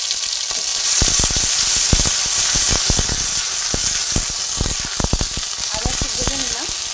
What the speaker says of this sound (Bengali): আদা একটু ভেজে নিলাম, নাহলে কাঁচা গন্ধ আসতে পারে